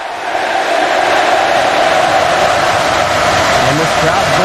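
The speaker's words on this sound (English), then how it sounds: "And this crowd's going freaking loud." A loud wrestling crowd in the Roblox video game roars and cheers continuously, a dense sustained wall of voices rising in at the start and holding strong throughout.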